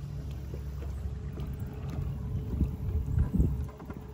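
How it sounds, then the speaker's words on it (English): A fishing boat glides along on its trolling motor, a steady low rumble of hull and water with light splashing and wind that swells slightly toward the end. "So we're gonna go ahead and hit the throttle on the trolling motor."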